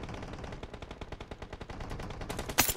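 Rapid bursts of shotgun fire in an online multiplayer shooter game, dense, repeated shots in quick succession, loud and close, with a sharp sharper blast near the end.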